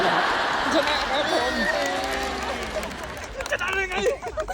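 Audience applause for a CFP financial planner at a Thai personal-finance event, a dense broadband wash of clapping under crowd chatter and a voice, thinning out toward the end.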